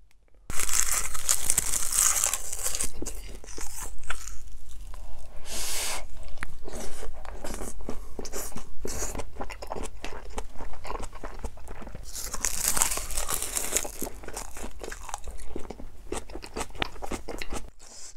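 Close-up chewing of crunchy braised aged kimchi with pork and Spam, moist crisp crunches and bites repeating steadily throughout, loud and intimate, with no talking.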